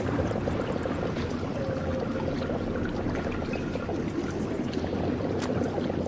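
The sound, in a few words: water being drained in Blood Omen 2 video game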